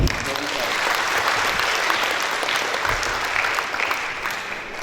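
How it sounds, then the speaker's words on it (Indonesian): A crowd at a university guest lecture claps steadily, dense applause holding at a strong level throughout and tapering slightly at the end. "yang editornya tepuk tangan dulu."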